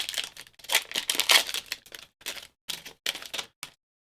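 A Magic: The Gathering booster pack is torn open in short, crisp bursts of crinkling and ripping foil wrapper, with several separate tugs and brief pauses between them, close up and without talk.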